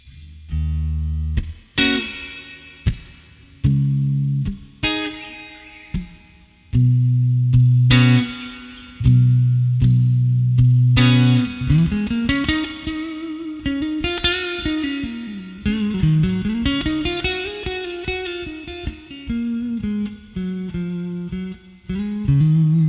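Electric guitar played through a Joyo Atmosphere reverb pedal set to a bright spring reverb, with chords, single notes and bends ringing out one after another and a shimmering wet tail behind every phrase, loud and close.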